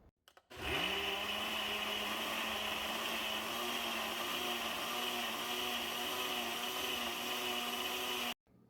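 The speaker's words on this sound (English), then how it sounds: "this is my new blender. Let's give it a try and see how well it works." An electric blender whirs at a steady high pitch for about eight seconds, starting abruptly and cutting off sharply, loud and close.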